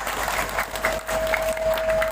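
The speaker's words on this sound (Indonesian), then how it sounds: "Saya minta tepuk tangan dulu dong buat para panitia yang telah melaksanakan pengajian begitu luar biasa." Audience applause for event organizers at an Islamic religious lecture gathering, a steady, moderately loud wash of clapping over about two seconds with a faint steady tone underneath.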